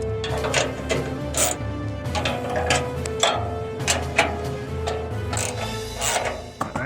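Bolts are tightened during installation of a GMG Daniel Boone or Ledge folding front shelf, with repeated close metallic ratcheting clicks and taps in irregular bursts over a low mechanical hum.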